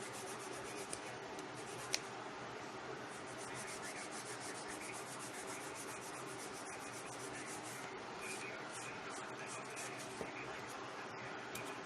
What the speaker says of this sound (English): So you can use this to file your nails.